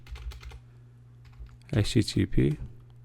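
A burst of quick keystrokes on a computer keyboard, close and crisp, follows a quiet stretch with faint ticks in the background.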